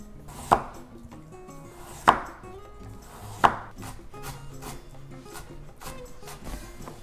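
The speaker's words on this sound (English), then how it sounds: "Let's cut the vegetables. Then the carrot." Knife chopping vegetables and a carrot on a board: three sharp, distinct cuts spaced over several seconds, with fainter cutting and handling noises in between, close and alone.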